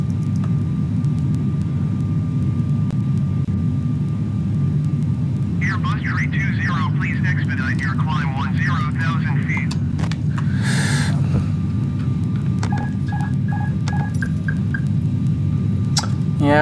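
A small airplane's engine drones steadily and loud from inside the cabin as it climbs after takeoff with flaps coming up, while radio chatter and cockpit beeps sound over it.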